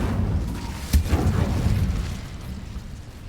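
A fire spell cast in the video game Hogwarts Legacy bursts out in one sharp whooshing blast, then a dense roaring rumble trails off over a few seconds.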